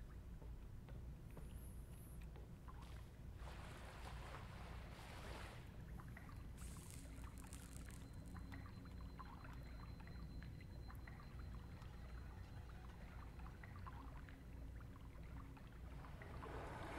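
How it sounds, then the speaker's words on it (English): Faint water in a video game, a quiet continuous lapping and trickling with soft splashes, low in level and steady throughout. "Water."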